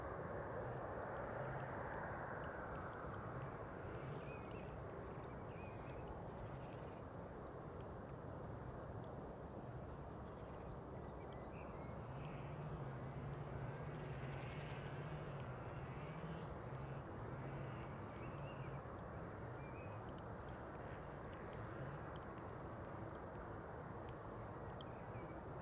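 An easyJet A320neo airliner at Schiphol Airport, a steady broadband engine roar held at a constant level throughout, moderately distant, with no clear rise or fade.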